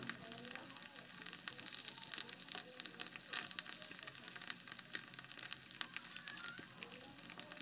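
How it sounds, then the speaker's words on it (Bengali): Rohu fish roe with chili powder frying in a pan, a faint, crackly sizzle with frequent sharp pops and spits, fairly quiet and steady throughout, with no talking. "তো ডিমগুলো আমি ভালোভাবে ভেজে নিচ্ছিলাম"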